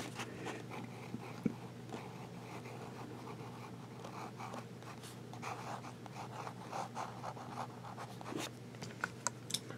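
A broad-nib Click fountain pen scratches steadily across paper, a faint, continuous scribbling with small strokes and occasional taps over a low background hum.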